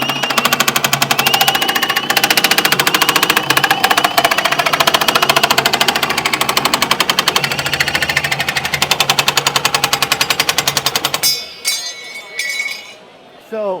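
A Milwaukee M18 FUEL 10 gauge nibbler chatters loudly and rapidly through sheet metal in a steady, dense rattling buzz for about eleven seconds before stopping abruptly, leaving a faint hum.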